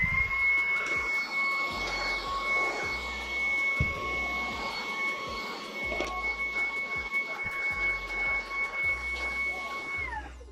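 An iLife Easine G80 vacuum cleaner runs at maximum speed, giving a steady, fairly loud motor whine with a constant high pitched tone and airy rush throughout, plus occasional low bumps as it moves, with no talking.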